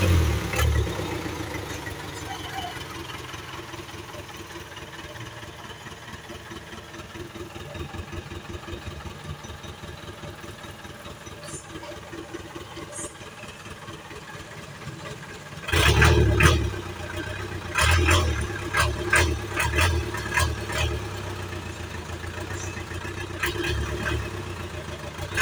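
Vehicle engines idle with a steady low rumble on a mountain road, then a louder engine swells in close around the middle and continues with uneven bursts of revving and clatter.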